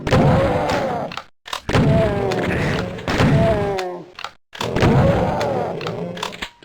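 Doom 2 video game shotgun, loud booming shell-firing blasts repeated four times, each followed by a rattling mechanical reload, sharp and close with no talk.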